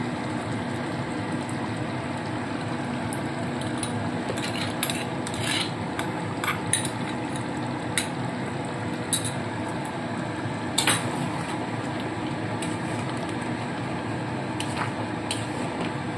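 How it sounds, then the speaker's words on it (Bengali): Chicken do pyaza being stirred and sautéed in a pan, with a steady low sizzle and bubbling under repeated sharp scrapes and clinks of a spatula against the metal. "দেখুন ভালো করে কষিয়ে নিচ্ছি।"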